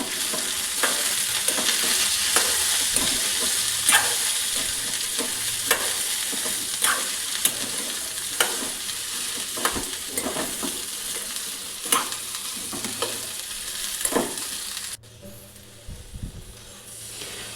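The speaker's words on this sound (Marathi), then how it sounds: "इथे मी एका कढईमध्ये अर्धा चमचा तेल घेतलेला आहे आणि त्यामध्ये भेंडी स्वच्छ धुवून अशी बारीक चिरून ती भेंडी आता मी तेलामध्ये परतून घेणार आहे" Finely chopped okra stir-fried in half a spoon of oil in a kadhai, a steady sizzle with repeated scraping strokes of the spatula against the pan, close and fairly loud, then quieter near the end.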